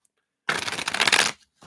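A deck of cards riffled for a live reading: one quick, dense shuffle of nearly a second, close and fairly loud, framed by silence with a faint rustle at the end.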